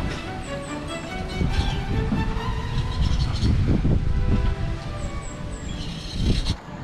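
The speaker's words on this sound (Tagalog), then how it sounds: "mapapansin nyo din dito yung napakalakas na hangin pagka inilipat ko na yung camera" Strong wind buffets the microphone outdoors at a pigeon derby in Sariaya, Quezon, a continuous loud rushing roar that swells and eases, with faint distant bird calls above it.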